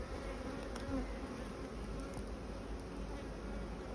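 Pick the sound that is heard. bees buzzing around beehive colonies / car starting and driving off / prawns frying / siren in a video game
bees buzzing around beehive colonies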